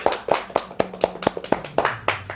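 Applause at a Sunday church service, a fairly quiet run of sharp hand claps in a steady, even rhythm, with no talking over it.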